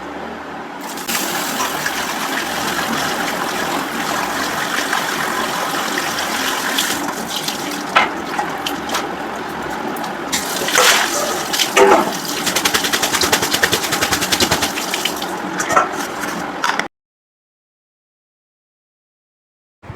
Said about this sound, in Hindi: 5 मिनट के बाद आप उसे अच्छी तरह धो लो